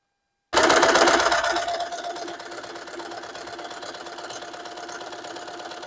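Three-thread sewing machine stitching seams starts with a loud whir, then settles into a steady, fast mechanical hum and rattle that runs close and unbroken, no talking.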